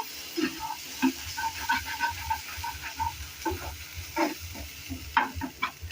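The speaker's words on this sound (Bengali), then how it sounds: "মশলাটাকে খুব ভালোভাবে ধিমি আঁচের মধ্যে" Spice masala sautés on a low flame while being stirred, giving a soft, uneven sizzle broken by scraping strokes, close and alone without talk.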